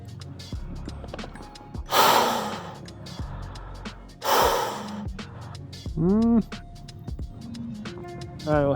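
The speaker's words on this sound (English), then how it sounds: "heavy breathing through your mouth" Heavy breathing through the mouth inside a BASE CAMP dust mask in cold weather comes as two loud, rasping breath bursts with a third shorter one, separated by quieter pauses and faint vocal sounds.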